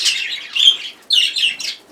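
A small cage bird, likely a young cinnamon canary cock, chirping close by in two quick bursts of bright twittering calls separated by a brief pause, alone against a quiet background.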